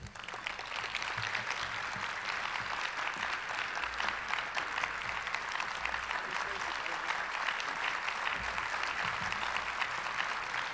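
An audience at the 2015 Iowa STEM Summit lunch session applauds to welcome Governor Terry Branstad, a dense, steady wash of clapping from a large crowd sustained for about ten seconds.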